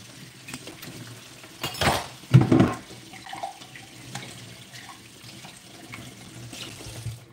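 Tap water runs into a kitchen sink, with brief louder gushing bursts and faint clinks of dishes around them, then a softer trickle, with no talk.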